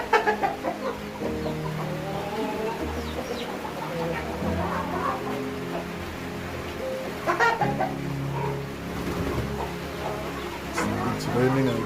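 Hen with her chicks on a kienyeji chicken farm, soft clucking and peeping scattered throughout, heard under someone talking, with rain falling outside.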